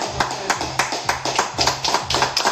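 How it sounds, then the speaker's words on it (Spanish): Applause from participants at home at the end of a live functional HIIT class, a dense patter of claps pulsing in repeated bursts under a low steady hum. "También quiero que todos en casa se den un aplauso."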